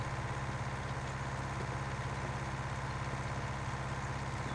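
A tractor engine in the Farming Simulator 19 video game runs at a steady idle with a low, even, pulsing hum that continues unchanged throughout, without talk.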